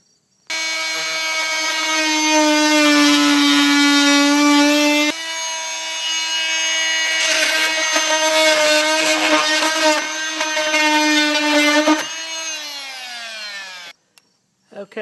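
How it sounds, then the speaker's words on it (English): A fine detail saw cuts through a rotten wooden exterior door frame, its steady rasping strokes loud and close, running continuously with a brief pause midway before stopping near the end. "You could use a circular saw also, but I like this fine detail saw."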